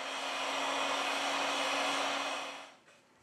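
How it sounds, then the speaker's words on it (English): A heat gun blows a loud, steady airy roar at close range onto a OnePlus 6T phone to loosen its battery cover, then cuts off near the end. "we apply heat to the device to remove the battery cover."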